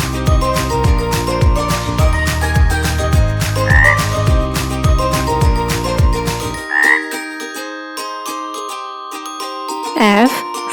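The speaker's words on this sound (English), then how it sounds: "F for frog." Frog croaking sounds come in a lively repeated rhythm over bright chiming tones and music. The loud, busy opening then thins to sparser croaks and pings.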